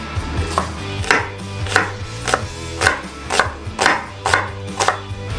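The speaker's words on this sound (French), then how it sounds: "Coupez maintenant un quart en rondelles." A knife slices red onion into rings on a cutting board in about ten crisp, evenly spaced strokes, close up, with no voices.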